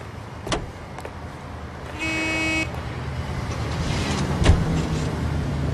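A car drives in the 1940s Los Angeles of the video game L.A. Noire, with a steady engine drone, a couple of sharp clicks and a short horn toot partway through.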